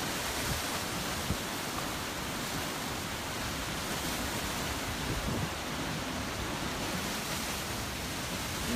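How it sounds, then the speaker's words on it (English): Water rushes steadily in Key Largo during Hurricane Irma, a dense broadband roar of flowing water and wind that stays constant and close. "This is pretty good water flow through here."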